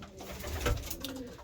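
Pigeons coo softly inside a breeding loft, with a single low, rounded coo rising briefly near the middle against a quiet background.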